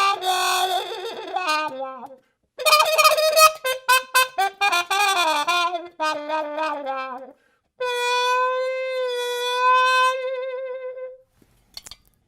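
A trumpet with plunger and pixie mute, in the Bubber Miley style, plays growling, wah-inflected phrases: a held opening tone, a run of short choppy notes, then a long bending sustained note, close and unaccompanied.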